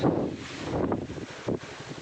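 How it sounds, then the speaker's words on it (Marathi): Strong wind gusts buffet the microphone outdoors in a village near a tamarind tree, a loud rumbling roar that surges and eases over a couple of seconds. "अरे बापरे का वारा सुटलाय भाऊ"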